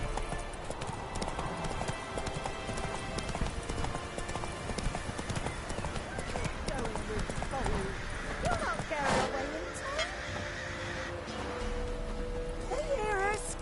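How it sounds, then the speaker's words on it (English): Hooves of a horse in The Witcher 3 clip-clop at a gallop, then ease toward a slower pace, with a voice speaking over the steady beat and game music in the background. "Slow now. Whoa. Not so fast, Roach."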